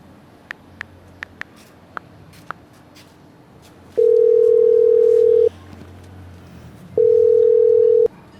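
Telephone tones sound as a number is dialed to reach a contact: a few quick clicks at first, then two steady, loud, continuous beeps about a second and a half each, separated by a pause, with faint background noise.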